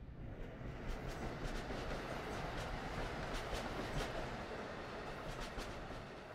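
An Amtrak Acela Express runs in Train Sim World 3, heard from inside the cabin as a steady, muffled rumble with faint rhythmic clicks from the rails and no voices.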